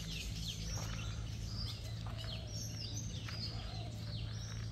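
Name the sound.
birds calling in the morning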